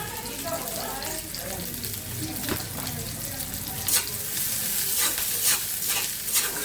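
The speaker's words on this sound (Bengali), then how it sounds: "এই যে আমি শাক ভাজি তেলে দিচ্ছি পেঁয়াজ রসুন আর দিব একটু কাঁচামরিচ" Greens frying in hot oil with onion, garlic and green chili, a steady close sizzle with scraping stir clatter, a few sharp metallic spoon knocks and bursts of hiss near the end.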